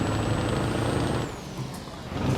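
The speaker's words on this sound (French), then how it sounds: "vous entendez le camion de l'extérieur" A heavy truck in Euro Truck Simulator 2, heard from outside, with a steady loud engine drone, an air brake hiss and a high whine that falls away midway before the engine sound builds again.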